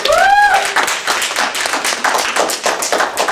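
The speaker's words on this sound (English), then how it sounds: "Let's give Lloyd a round of applause, everybody." A room of people gives a round of applause welcoming former baseball manager Lloyd McClendon in his hometown of Gary, Indiana: steady, close hand clapping after a brief whistle-like tone at the start.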